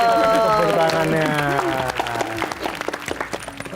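Studio audience applauding on a TV family show, with clapping rising under fading voices and musical tones, then thinning into scattered claps toward the end.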